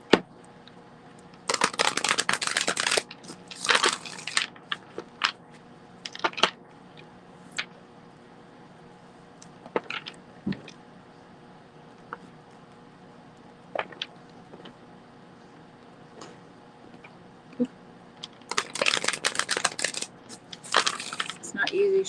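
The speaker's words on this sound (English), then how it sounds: "It's not easy shuffling with these things on my hands." A tarot deck is shuffled by hand in short riffling bursts, with scattered soft card taps and clicks between, close and fairly quiet.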